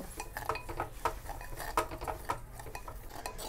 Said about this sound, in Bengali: বেশ কিছুটা চা দিয়ে দিচ্ছি। এটাকেও ভালো করে ভেজে নেব